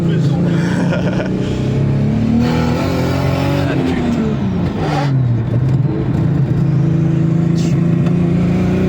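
Tuned Lexus GS 300 with over 550 hp engine revving hard and accelerating, loud and close from inside the car, with rising and falling pitch sweeps across shifts, sustained throughout under occasional voice.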